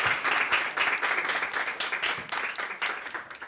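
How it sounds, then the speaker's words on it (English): Applause from the audience at the All Digital Summit 2021 closing plenary, a moderately loud crowd clapping in uneven surges from start to finish. "a big applause, of course."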